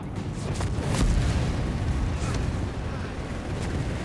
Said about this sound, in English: Machine guns are busy as well there.